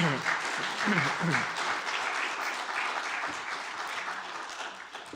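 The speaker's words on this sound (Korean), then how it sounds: "박수 한번 쳐요, 박수 한번. Un aplauso." Church congregation applauds during a service, a steady wash of many hands clapping at moderate distance, with a voice speaking briefly over the start.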